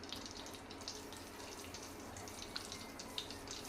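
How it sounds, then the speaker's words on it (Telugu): Water poured from a glass onto sugar in a cooking pot for Mysore pak makes a faint, steady trickling splash that continues throughout at low volume, with no voices. "మనకు షుగరు తడిసే విధంగా వాటర్ అయితే వేసుకోవాలి"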